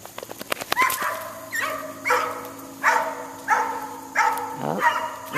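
Several dogs bark repeatedly at close range in an uneven rhythm, mixed with a rising whimper or whine near the end, with no one talking over them.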